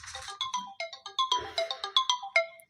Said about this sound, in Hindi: फ़ोन थोड़ा सा आवाज़ करने लगा था